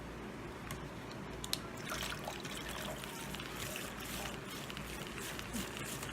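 Makeup brush spun in water during cleaning, a continuous soft trickling and swishing of liquid, fairly quiet and steady with a brief click near the start.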